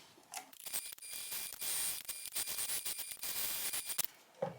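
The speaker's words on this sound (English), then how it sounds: "I'm going to sew all around the perimeter of this, and that will attach the connectors and the lining" Sewing machine stitching around the perimeter of a backpack, joining connectors and lining to the back panel; a steady mechanical whir with brief stops and restarts, close and fairly loud, no talk.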